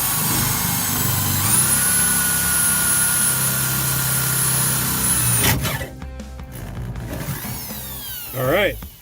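A drill bores out spot welds on a 1969 Dodge Charger torsion bar bracket, whining steadily for several seconds before stopping, followed by clattering metal handling and a brief voice.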